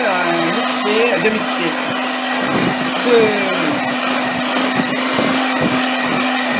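Light Easter cake batter being whisked, likely by an electric whisk, giving a loud steady motor whine that runs throughout with a few light scraping knocks, while a voice talks over it.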